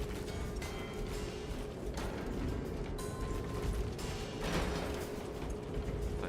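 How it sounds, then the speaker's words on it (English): Grinding gears of an old mechanism in the video game Space Marine 2, a steady mechanical churning and ratcheting with creaks that runs continuously at moderate loudness with no talk. "Gears are grinding like an old contraption."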